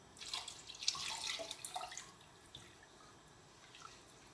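Water running into a soup pot, about a litre or more, from a tap in a home kitchen; a splashy trickle that is strongest in the first two seconds, then tapers to faint drips and quiet.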